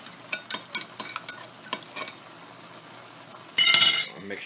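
Cornstarch stirred into a chicken stir fry mixture: light utensil clinks and taps against a pan, then a brief burst of louder scraping and stirring near the end.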